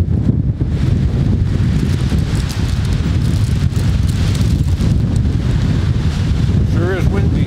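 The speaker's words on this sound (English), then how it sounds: "Sure is windy." Strong wind buffets the microphone in a steady, loud roar throughout, with a brief voice near the end.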